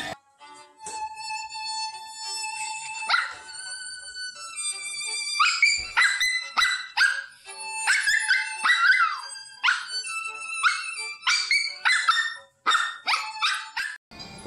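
A dog howls and yips in long, wavering, rising and falling tones that sound almost like singing, continuing without pause for several seconds.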